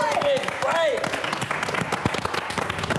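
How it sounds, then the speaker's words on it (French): Studio audience applause on a French television game show at a sea fort, a brief busy patter of clapping with voices and cheering mixed in. "Et on peut applaudir Olivier."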